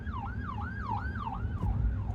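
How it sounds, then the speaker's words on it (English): An ambulance siren wails on a road in a repeating up-and-down yelp, heard from a passing car over a steady low rumble of road and engine noise, with no talk. "Got an ambulance coming up"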